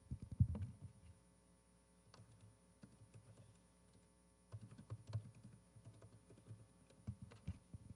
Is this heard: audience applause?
no